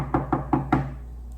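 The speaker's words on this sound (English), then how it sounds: "He came to the ant's house and knocked on the door." Four evenly spaced knocks on a door, close and fairly loud, followed by quiet room tone.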